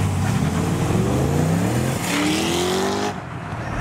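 A stock 2008 Corvette C6 Z06 and a supercharged 2006 Ford Mustang GT race; the engines roar loudly and close, their pitch climbing through the gears with a short shift break before the sound drops away.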